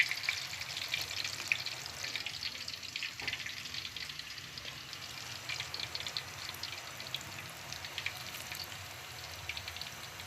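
Mixed vegetable pakoras fry in hot oil, giving a steady, moderately quiet sizzle and bubbling crackle that runs throughout with no talk over it.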